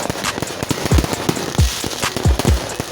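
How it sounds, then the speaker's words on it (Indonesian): New Year's Eve fireworks in Bali boom repeatedly, with several deep thuds in quick succession amid continuous crackling and popping, loud and fairly near. "Kita bermain pesta kembang api."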